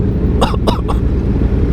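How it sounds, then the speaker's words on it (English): Three quick coughs in a row over a steady loud rumble of London traffic at night. "Coughing here."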